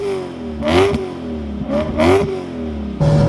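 A supercharged V8 in a BMW E92 M3 revs in short, sharp blips, rising and falling quickly, then settles into a loud idle with supercharger whine, close and with no one talking.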